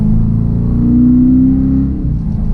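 A 2018 Dodge Challenger R/T Shaker V8 roars loud and close during a downshift, a deep sustained engine rumble that swells briefly in pitch, then settles back.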